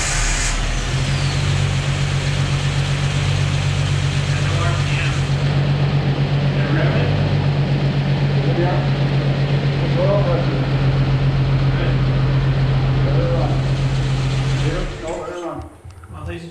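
A Jeep engine runs steadily and loudly for most of the stretch, droning under background talk, then cuts out near the end, leaving a few faint knocks and voices.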